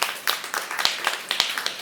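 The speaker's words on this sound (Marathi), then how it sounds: "सरांसाठी जोरदार टाळ्या वाजवा" Applause from an audience honouring a speaker, a short burst of brisk, dense clapping at steady volume with a few sharper individual claps standing out.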